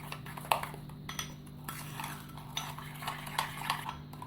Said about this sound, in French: Donc, je vais bien mélanger.